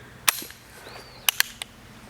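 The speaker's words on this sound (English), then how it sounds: "let's shoot something that is cool, like a 2-liter if I can hit it" A lever-action rifle fired at a 2-liter bottle, giving one sharp crack and then a quick cluster of snaps and pops a second later. Moderately loud over faint background noise, with no talking.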